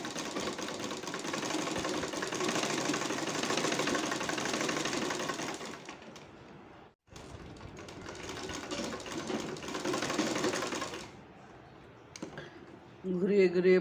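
A sewing machine stitches a leaf design in long, fast whirring runs, with a brief pause between two bursts, then quieter handling and a short spell of talk near the end.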